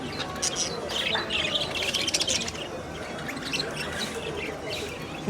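Birds chirp and squawk at a Moroccan souk market stall in Agadir, a busy chorus of calls over steady crowd murmur and voices nearby.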